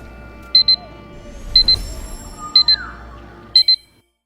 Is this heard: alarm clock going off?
yes